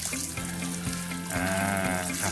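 Water rinses a freshly washed car body after the wash-and-wax shampoo has sat for a few minutes, a steady broad splashing hiss that runs continuously and close, with no voices.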